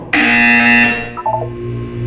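A loud, harsh electronic buzzer sounds in the Portal 2 video game, one sustained tone of about a second followed by a softer warbling tail, with no talking.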